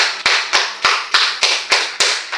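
A crowd claps and cheers in a steady wave of applause with rhythmic accents roughly every third of a second, loud and close, with no voices talking over it.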